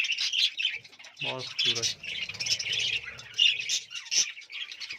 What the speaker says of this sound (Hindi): ये मेरा बजीज का पेयर और पाइट का नर है